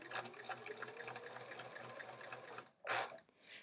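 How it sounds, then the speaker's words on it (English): A sewing machine stitches a quilt top in a steady, close, continuous whir for nearly three seconds, then stops, followed by a brief louder rustle of fabric being handled. "let's try sewing this"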